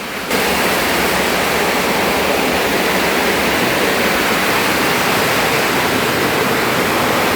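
Very heavy rain pours down in a loud, dense, unbroken roar like a torrent, starting abruptly after a brief moment and staying constant throughout, with no voices heard.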